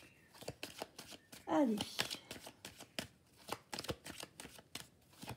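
A tarot deck being shuffled by hand, soft papery riffling and card taps repeating close by while someone speaks in French over it.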